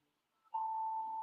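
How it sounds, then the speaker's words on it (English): A phone alarm goes off, a steady, loud electronic tone that starts abruptly and holds unbroken for about a second after a brief quiet lead-in, with no talk over it. "sorry, my alarm went off."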